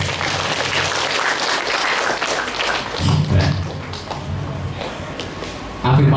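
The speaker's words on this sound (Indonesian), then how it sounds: "Tepuk tangan buat Nabil." Students at a junior high school motivational gathering applaud, a dense, continuous patter of clapping with thumps and shuffling mixed in, growing fuller near the end.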